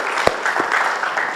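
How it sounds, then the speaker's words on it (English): Applause from attendees at a community budget input session, a short burst of steady clapping with a couple of sharper thumps, fairly close and dense for just over a second. "So you deserve a round of applause for that."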